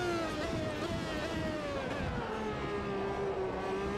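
An Opala Old Stock race car engine from Automobilista 2 drones steadily near and loud, its pitch sliding slowly downward over a few seconds with a rough, aggressive growl.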